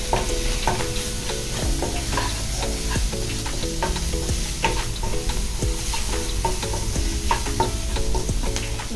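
Peas and mushrooms fry in a pan with salt, chili and turmeric, giving a steady close sizzle broken by frequent spatula scrapes and taps, with a low tonal hum underneath and no talking.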